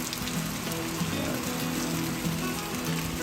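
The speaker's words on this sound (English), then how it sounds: "Nice little rain." Light, steady rain pattering on surfaces around a ranch house, a soft continuous hiss with dense scattered drops at an even level and no voices.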